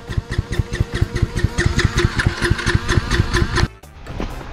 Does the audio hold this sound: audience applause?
no